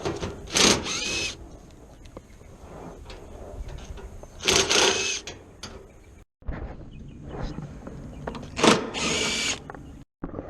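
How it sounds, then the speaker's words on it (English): A handheld power grinder cuts during home demolition, with two or three loud bursts of grinding separated by quieter, intermittent tool noise and short pauses. "a grinder will save you so much time when doing demo"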